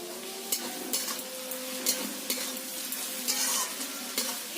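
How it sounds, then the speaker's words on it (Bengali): Chopped onions sizzle in a pan with a little salt as they are fried until soft and reddish, a steady crackling hiss broken by the scrape and clatter of a spatula stirring them, close and alone without voices. "পেঁয়াজগুলো ভালো করে লাল লাল করে ভাজা ভাজা করে নিতে হবে"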